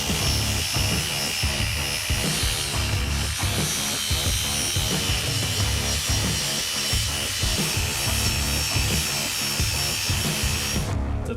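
A grinder works down rough welds on an old go-kart frame, a loud continuous gritty roar with rhythmic scraping pulses as the disc is pushed across the metal, close up and with no speech.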